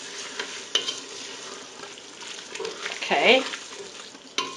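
Seasoned ground meat for early-1900s Oklahoma chili frying and being stirred in a pan, a close, busy sizzle with scraping spoon strokes and a sharper scrape near the end; a voice speaks briefly.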